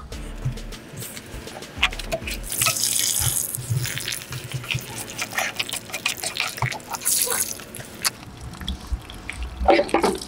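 A mesh water filter screen is rinsed under a running tap, a steady splashing gush that swells and breaks as the mesh moves through the stream, with no talk.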